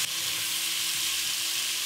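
Onions dropped into a hot pan after browning beef chuck for pot roast, a loud steady sizzle and crackle of frying up close, with no talk.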